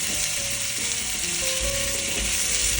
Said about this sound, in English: we need to add in potatoes and let them just cook in the heat a little bit